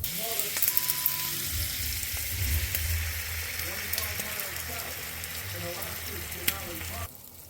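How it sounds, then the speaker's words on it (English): Butter and beaten eggs sizzle steadily in a frying pan, a close, continuous crackle with occasional stirring scrapes, cutting off just before the end. "Gonna add a big chunk of butter to the pan and we'll get them going."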